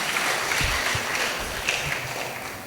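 An audience claps at a Catholic sermon, a dense burst of applause from a crowd that fades slightly over a few seconds.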